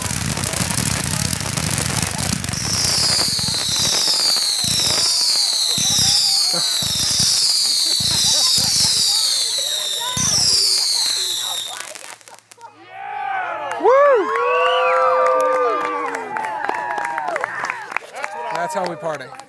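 Fourth of July fireworks finale: loud, rapid bursts and whistling rockets pile up for about twelve seconds, then the blasts stop and quieter voices and chatter carry on.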